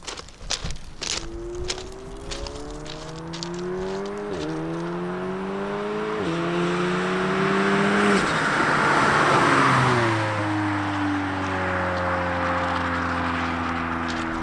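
A turbocharged Audi S3 of about 500 hp with an aftermarket downpipe climbs through the gears, revving up with each shift and growing louder as it approaches and passes, with footsteps and rustling at the start.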